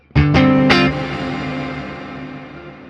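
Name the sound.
spring reverb guitar effect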